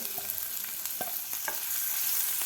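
Garlic, green chilli and cumin paste fries in a spoonful of oil over medium heat, a steady close sizzle with a few scraping stir strokes and soft clicks, no talking.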